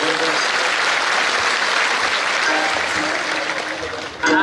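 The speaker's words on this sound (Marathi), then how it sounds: "टाळी वाजवा बरं माझ्यासाठी." A crowd at a Marathi kirtan festival claps in sustained, loud applause that thins slightly toward the end before a brief burst of louder sound.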